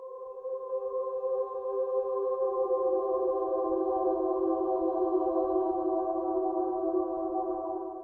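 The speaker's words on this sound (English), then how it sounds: "I'm actually only playing one choir patch here" A soft synthesized choir pad, a single Underwater Angels patch from Hans Zimmer's Symphonic Elements, holds a sustained, airy chord that swells gently and stays steady and quiet throughout.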